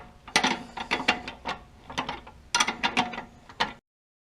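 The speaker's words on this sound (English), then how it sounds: "So let's take that nut off there" A ratchet wrench loosens a nut on a 1987 Snapper V212 riding mower, with loud, close bursts of rapid metallic clicking in several strokes and short pauses between them, then stopping abruptly.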